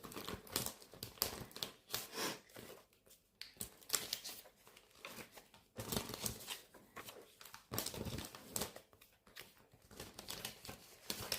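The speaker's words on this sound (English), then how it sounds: "let's start emptying out all the fillers and the cards" Photocard fillers and cards being pulled out of a binder's sleeves, close and quiet crinkling and rustling of plastic and card in irregular bursts with brief pauses.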